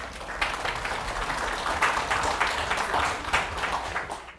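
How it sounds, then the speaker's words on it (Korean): Audience at a Korean health lecture applauding to welcome a family-medicine professor to the stage, a steady wash of many hands clapping for several seconds with no speech. "큰 박수로 환영해 주시면 감사하겠습니다."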